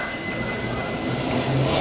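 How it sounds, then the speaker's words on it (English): A train rumbling past up close, with a steady broadband roar, low rolling wheel noise and a faint high tonal whine, loud and continuous throughout with no voices. "Shit, the train!"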